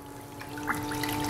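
Water from a hose runs through a cleanup sluice with a low, trickling flow and light splashing, faint and steady, over a faint constant hum.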